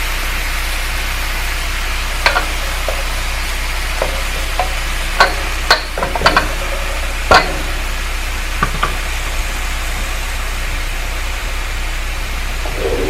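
Chicken adobo sizzling and frying steadily in a pan, a loud, close, continuous hiss broken by occasional clinks and stirring clatters, with no talking.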